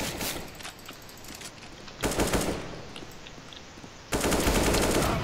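Rapid automatic gunfire in the video game CS:GO, dense crackling bursts that cut off and restart in three loud, sharp segments, with no talking.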